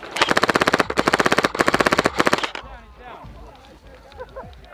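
Rapid machine-gun bursts fire in a shootout video game, four loud sustained volleys back to back, then they stop and quieter game sounds and movement follow.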